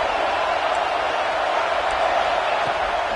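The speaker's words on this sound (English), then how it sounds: "Decibels rising as the crowd gets behind this defense on 3rd down" A college football stadium crowd roars in a dense, steady wash of noise on a third-down defensive stand, loud and continuous without clear peaks.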